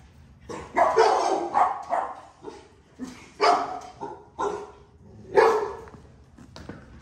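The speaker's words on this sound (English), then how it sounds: "Who barking over here?" A dog barks in repeated bursts, close and fairly loud, with yips and short gaps between barks over several seconds.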